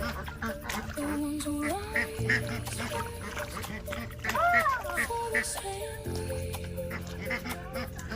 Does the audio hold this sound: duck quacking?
yes